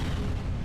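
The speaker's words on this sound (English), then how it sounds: "Explosion!" A short deep blast in a visual novel game, a dense low boom filling the whole brief moment at steady loudness, with no voices.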